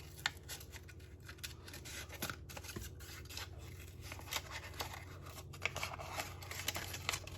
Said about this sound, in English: go ahead and keep cutting your decorations